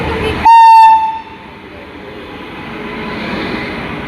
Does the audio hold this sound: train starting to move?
yes